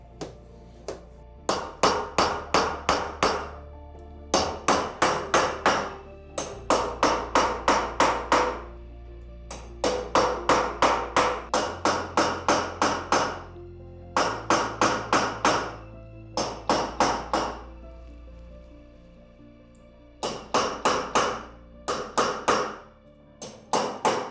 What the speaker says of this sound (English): We start to fold the metal with this technique, with this chisel.